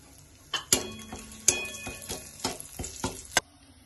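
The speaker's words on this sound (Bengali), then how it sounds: "এই গোটা গরম মশলা ফোড়ন দেব, দুটো তেজপাতা দেব।" Whole garam masala and two bay leaves crackle in a small amount of hot oil, with sharp, scattered pops and clicks over a soft sizzle, close and fairly quiet, with no voices.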